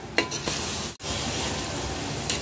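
Chopped tomatoes sizzle steadily in a hot pan of oil while a spoon stirs them, with a few scraping strokes and one brief break in the frying hiss.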